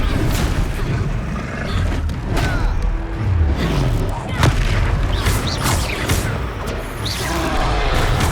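Confringo fire-spell blasts during a Hogwarts Legacy battle: repeated booming explosions and crashes with whooshing bursts, dense and loud throughout, mixed with combat sounds and voices.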